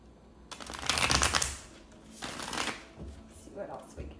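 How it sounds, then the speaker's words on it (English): Tarot cards are shuffled up close in several papery riffling bursts: a long first shuffle, then a few shorter, softer ones. "let's pull some tarot and go a little deeper"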